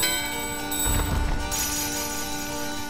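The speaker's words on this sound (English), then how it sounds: "The bell in your hand and the doorbell are ringing." A bell held in hand and a doorbell ringing together in Final Fantasy IX, set in Lindblum: sustained tonal chiming layered over a steady game music bed, with a brief low thump midway.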